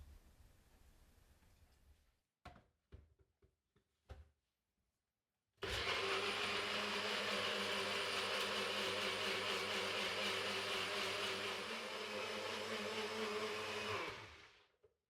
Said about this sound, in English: And now we're going to blend it with some olive oil.